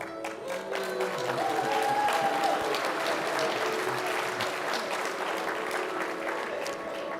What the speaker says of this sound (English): A round of applause as he comes on stage